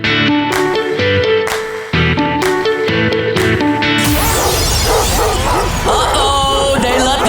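A dog-barking sound effect opens a sports radio segment: a run of loud, sharp barks in an uneven rhythm, then a crash that opens into dense, busy music. No one speaks.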